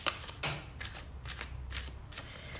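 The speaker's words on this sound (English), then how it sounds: "All right, so your deck is now all shuffled." Tarot card deck being shuffled close up, a series of quiet papery riffles and soft slaps in an irregular rhythm with faint background noise.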